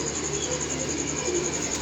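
Soft, low pigeon coos from birds kept on a rooftop loft, a faint repeated murmur over steady background hiss.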